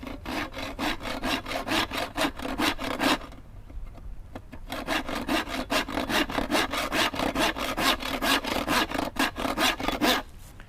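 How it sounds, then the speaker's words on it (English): A hand saw that cuts on the push stroke works through wood for a stool joint, giving quick, even rasping strokes that pause briefly midway and then resume, close and loud with no talking. "Since this saw cuts on the push, right, the push stroke, the forward stroke of the saw will make sure that the workpiece doesn't move out of place."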